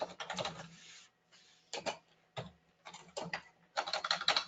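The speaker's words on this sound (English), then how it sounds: "I'm just typing it in for you guys here." Keyboard typing in quick bursts of clicky keystrokes, with short pauses between runs, close and fairly quiet.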